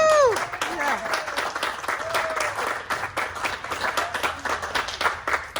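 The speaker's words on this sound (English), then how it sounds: "Let's give them a big round of applause" Crowd applauding a city champion's staff, lively clapping with cheers and voices mixed in over the top, a whistle-like call near the start.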